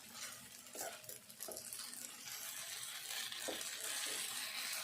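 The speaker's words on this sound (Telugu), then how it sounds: "ఇట్లా మంచిగా కలుపుకొని కొద్దిసేపు అయితే ఇదంతా కూడా మంచిగా ఈ నూనెలో ఉడకనియాలి" Flattened rice being stirred and mixed in hot oil in a pan, a steady close scraping and soft sizzle with a few louder spoon strokes, no voices.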